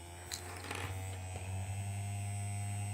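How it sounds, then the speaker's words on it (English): A small toothbrush motor buzzes steadily on a homemade art bot with marker feet, a faint continuous electric hum with a few light clicks near the start. "And then we can turn our toothbrush motor on."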